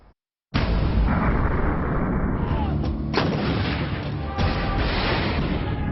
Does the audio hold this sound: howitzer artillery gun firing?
yes